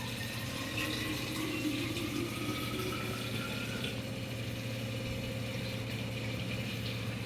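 Water pours steadily onto uncooked rice in a pot, making a continuous close-up splashing and trickling sound over several seconds with no talking.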